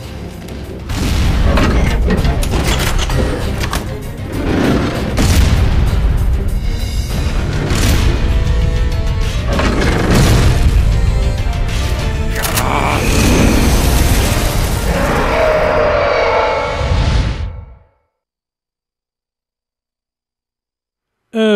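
Rocket launcher explosions in the video game Metal Gear Solid Peace Walker, loud repeated booms and bursts with mechanical clatter and game effects for over fifteen seconds, then abrupt silence.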